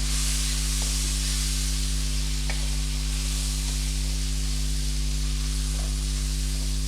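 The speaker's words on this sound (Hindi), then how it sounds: "ज़रा सिर्फ 2 मिनट इसे मैं फ्राई कर लूँ ताकि ये लहसुन अदरक जो मैंने इसमें डाला है वो इसमें फ्राई हो जाए।" Garlic-ginger masala frying in a pan for masala bhindi, a constant loud sizzle and hiss over a strong low hum, with a few faint stirring knocks.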